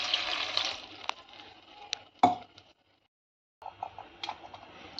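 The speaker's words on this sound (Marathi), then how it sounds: "आता पाणी टाकून घेणार आहे" Water is poured into a rice and pigeon pea dal mix in a pot, splashing for about two seconds with a sharp clunk, then a pause before more faint pouring and clinking.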